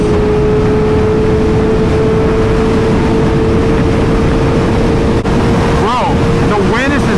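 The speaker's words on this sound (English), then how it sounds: "Bro, the wind is insane." Strong wind roars and buffets the microphone nonstop while riding a motorcycle, a loud, steady rush with a faint tone running underneath and a few brief chirps near the end.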